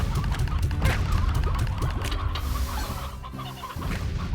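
Hens clucking on a ranch in the Slime Rancher video game, with several short clucks in an irregular rhythm over a busy, steady background of game sounds.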